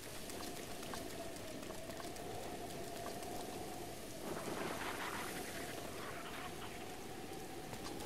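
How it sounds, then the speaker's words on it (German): Steady, dense rainfall in the Zelda: Breath of the Wild game world, a continuous broadband hiss with a low rumble, fairly quiet and unbroken, growing briefly heavier midway, with no voices. "ich mag nicht, wenn es überall so regnet"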